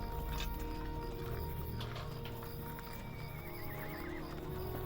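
A horse whinnies and snorts over steady clip-clopping hooves in the game Lord of the Rings Online, with ambient game background sound underneath.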